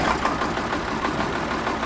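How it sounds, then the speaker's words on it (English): A tractor engine idles close by with a loud, steady, slightly knocking rumble for about two seconds. "This tractor here, I don't know what it is, but boy, you hit the key, she starts right up"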